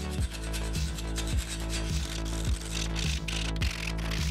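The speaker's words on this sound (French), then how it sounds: "on s'attaque au grattage de la couche de peinture restante ou minium qui est mise à jour" Hand scraper working off leftover paint and red lead primer from a metal window frame, harsh rasping strokes repeating in a steady rhythm roughly every half second, loud and close with no voices.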